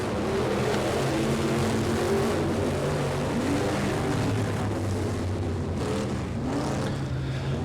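B-Mod race cars in a heat race roar around an oval track on the final lap, a loud, continuous engine drone with overlapping pitches that rise and fall as the pack passes.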